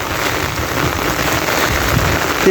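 Heavy rain falls in Dhobaura, Bangladesh, a loud, dense and even wash of drumming drops that continues without pause from start to end.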